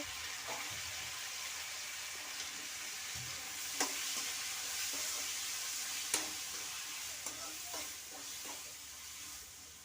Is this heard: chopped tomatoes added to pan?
yes